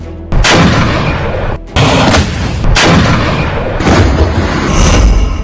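Tank cannon fire on the Zaporizhzhia front line, with loud booming blasts in quick succession, each followed by a rumbling roll, heavy and close with a continuous roar between shots.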